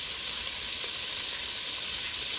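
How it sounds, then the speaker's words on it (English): Cut-up bacon slices fry in a pan, giving a loud, even, continuous sizzle close by, with no talking and no pauses. "all we want to do is get a brown on this bacon"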